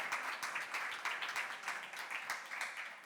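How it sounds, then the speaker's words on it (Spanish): An audience at a press conference for Grand Tour claps in welcome for a guest, fairly faint and somewhat distant, with many hands clapping in a steady, uneven patter. "os pido un fuerte aplauso de bienvenida"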